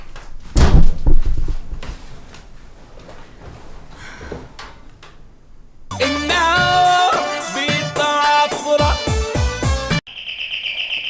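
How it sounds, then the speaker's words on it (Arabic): A few sharp, loud knocks on a house door, close by, followed by a burst of music and a sustained electronic tone. "ده مين اللي بيخبط بدري قوي كده؟"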